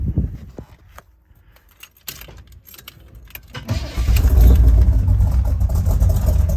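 Keys jangle and clicks sound in a quiet interior, then a Suzuki Jimny's engine starts and settles into a loud, steady, close idle rumble.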